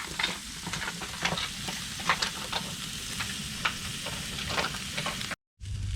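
Pork chops sizzle steadily in a pan over medium-low heat outdoors at an RV on a cold evening, a constant crackle with scattered sharp pops, then a brief cut to silence near the end.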